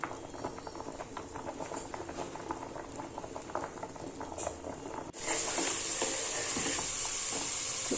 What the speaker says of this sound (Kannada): ತರಕಾರಿ ಕೂಡ ಚೆನ್ನಾಗಿ ಬೇಯ್ತಾ ಇದೆ.